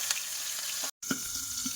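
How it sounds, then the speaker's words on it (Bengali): Fish frying in hot, spattering oil gives a steady close sizzle with scattered pops, briefly cut to silence partway through before the hiss resumes. "আবার এই তেল ছিটকাচ্ছে খুব"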